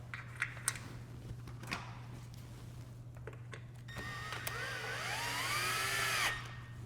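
Power driver running a screw into the top corner of a porch window frame, a close rising whine lasting a couple of seconds after a few light knocks and taps over a steady low hum.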